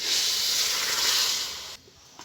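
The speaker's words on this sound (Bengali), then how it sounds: "2 বাটি জল দিয়ে দিচ্ছি।" Water poured from a bowl onto a bowl of sugar to make syrup for a puffed-rice langcha sweet, a steady close rushing hiss that cuts off sharply near the end.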